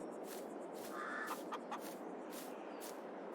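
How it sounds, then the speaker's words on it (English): Chickens cluck and crow in a Farming Simulator 22 farm yard, a steady flock chorus with repeated calls over constant background hum, no talk. "So here we have our chickens."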